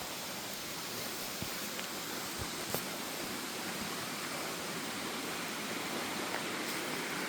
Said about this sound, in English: The water running in, and the waterfall itself is behind that bush.